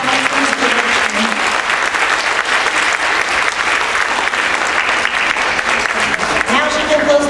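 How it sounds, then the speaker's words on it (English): Loud, sustained applause from students and families at a school production, dense and steady throughout with a crowd murmur and scattered voices mixed in. "So thunderous applause, students and families for Mrs. Johnson's production."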